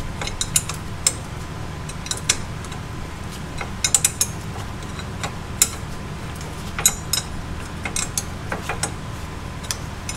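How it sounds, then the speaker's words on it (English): Ratchet clicks and sharp metallic ticks come in short bursts as radiator support brackets are unbolted on an Audi S4 B8.5 during engine removal, close and fairly quiet over a low steady hum. "I also gonna remove those two brackets that supports the radiator support."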